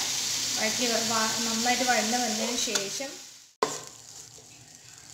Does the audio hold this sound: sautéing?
yes